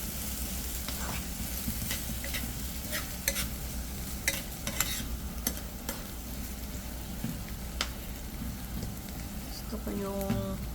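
Canned sardines sizzle and bubble in a pan after water is added, a soft steady crackle with occasional scraping stirs and clinks throughout.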